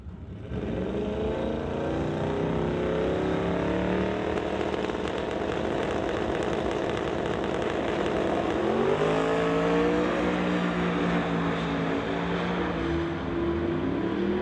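Drag race cars, a 2012 Ford Mustang against the Green Goblin Barracuda, roar continuously at a drag strip, the engine note loud and sustained, rising in pitch partway through as they accelerate down the track.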